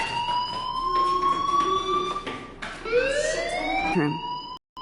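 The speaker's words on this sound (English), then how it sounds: "The alarm tripped me out" An alarm sounds in the Life is Strange video game, a loud rising electronic wail that repeats in long sweeping tones, cutting out briefly near the end.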